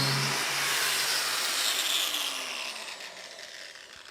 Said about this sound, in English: Okay, so the disc is now trimmed.